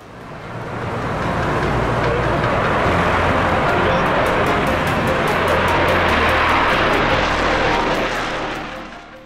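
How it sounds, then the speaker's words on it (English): Sukhoi Su-57 fighter jet taking off at the Aero India 2025 airshow in Bengaluru, a loud, broad engine roar that swells in, holds steady and fades away over several seconds. "Sukhoi Su-57 takes off in 10 seconds at Aero India 2025"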